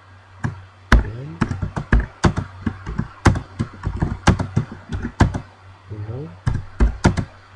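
Rapid, irregular bursts of keystrokes on a computer keyboard as C++ code is entered, close and crisp, with brief pauses between runs of taps and a voice speaking over part of it.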